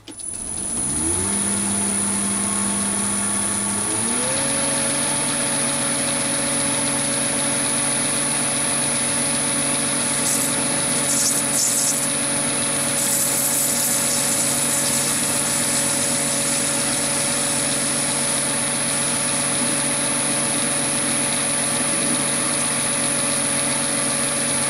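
A Chinese mini lathe whirs steadily as it skims the face of a thumb screw, its motor hum rising in pitch early on and then holding an even, continuous drone.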